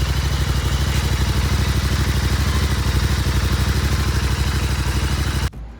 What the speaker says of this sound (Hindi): अभी हम लोग आपको DB कलर्स के साथ की एग्जॉस्ट साउंड सुनाएंगे।